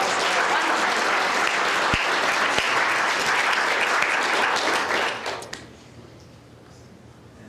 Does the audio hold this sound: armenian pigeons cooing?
no